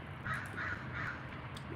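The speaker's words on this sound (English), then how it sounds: "nobody likes crows" A crow caws three times in a steady rhythm, moderately distant against low background rumble, with a faint fourth call at the end.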